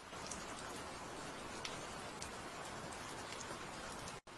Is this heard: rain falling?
yes